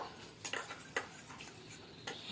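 Metal spoon stirring egg biryani mixed with rose water in a pot, giving a few quiet, irregular clinks and scrapes against the pot, close by with no talk.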